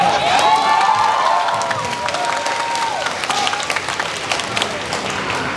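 Live audience applause and cheering after performances by a rap team on a Vietnamese music competition show, loud and dense throughout with crowd shouts over steady clapping, an emcee's voice briefly heard early on.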